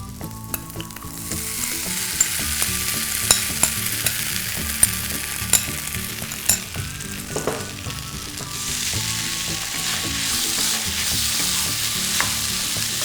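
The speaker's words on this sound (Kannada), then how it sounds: "ಚೆನ್ನಾಗಿ ಕಲಸಾದ್ಮೇಲೆ ಇದಕ್ಕೆ ನೆನೆಸಿಟ್ಕೊಂಡಿರೋ ಸಬ್ಬಕ್ಕಿ ಹಾಕ್ತಾ ಇದ್ದೀನಿ" Soaked sago pearls tipped into an oiled frying pan for sabbakki uppittu and stirred, a steady close sizzle with scraping strokes and light clinks of the spatula against the pan, no talking.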